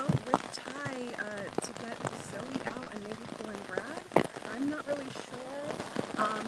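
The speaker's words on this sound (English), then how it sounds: "I just know that we're all gonna get really rained on." Heavy rain pelts an outdoor surface in a dense, crackling patter while people speak over it throughout, with occasional louder drops and splashes.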